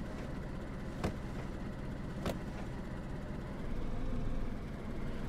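Car engine in the video game DayZ runs at a steady low idle throughout, with two sharp clicks or knocks cutting through and a slight swell in level near the end.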